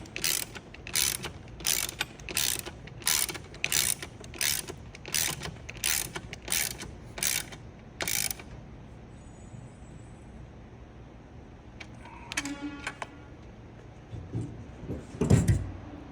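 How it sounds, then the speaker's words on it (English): Ratchet tightening a bolt against a lock nut on a motorcycle carburetor, a regular series of about a dozen sharp clicking strokes, followed by quieter fiddling and a few faint clicks near the end. "Holding your lock nut, tighten up your bolt."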